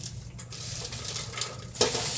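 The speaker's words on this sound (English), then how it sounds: "we're going to put this popcorn into the pot" Popped candy popcorn tumbles into a pot on a stove, a close, brief rustling clatter of kernels against metal with a sharper scrape near the end, no talking.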